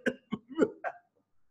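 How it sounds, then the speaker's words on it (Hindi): A burst of four wet, harsh coughs in quick succession from a person with bronchiectasis, early in the morning just after waking, close and fairly loud, followed by silence. "आ गई खांसी आ गई"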